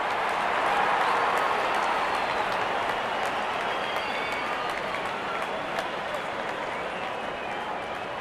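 A cricket stadium crowd in the Real Cricket video game applauds and cheers in a steady, dense roar that holds at the same loudness throughout, with no breaks.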